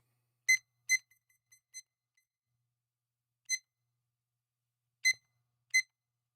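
Sharp electronic timer beeps sound alone in short separate bursts, a couple of quick chirps near the start followed by single beeps spaced out over several seconds, clear and close in an otherwise quiet room.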